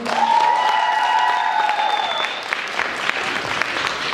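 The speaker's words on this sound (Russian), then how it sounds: "ваши громкие аплодисменты" A student KVN comedy contest audience applauds in a hall, a dense, loud burst of clapping that holds steady and then thins slightly as it goes on.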